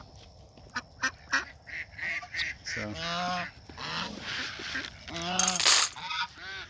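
Geese honk in loud, nasal bursts close by, several calls in quick succession with ducks around them and a brief spoken word.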